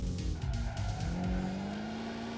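Tires skidding and sliding in the Initial Drift Online racing game, a continuous engine drone with rising pitch under the squeal, loud and steady throughout.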